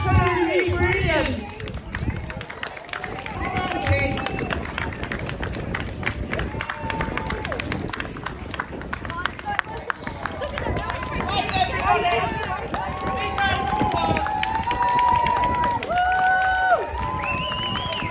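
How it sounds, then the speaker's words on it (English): A crowd at a Platinum Jubilee street party in Jaywick Sands claps steadily in a dense, continuous patter, mixed with cheers and lively chatter over the whole stretch. "give him a big round of applause"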